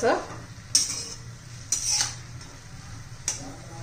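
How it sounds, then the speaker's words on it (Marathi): Hyacinth beans, freshly washed and still wet, being stirred in a kadhai: a few sharp scrapes and clinks of the spoon against the metal pan at a slow, uneven pace, over a soft, steady background sizzle. "असं हलवत राहायचंय।"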